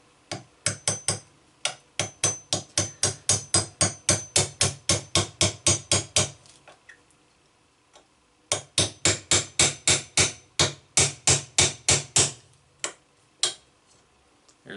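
Steady, close hammer taps driving a 3/32 roll pin punch into a rifle buttstock, two long runs of evenly spaced sharp metallic strikes separated by a brief pause, loud and alone.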